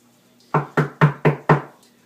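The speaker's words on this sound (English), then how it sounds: "I hear someone knocking at the south entry." Five firm, evenly spaced knocks on a door, close and loud, followed by silence.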